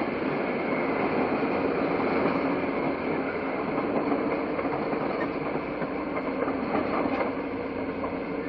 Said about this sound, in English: The Super Chief gets underway on its run to the West Coast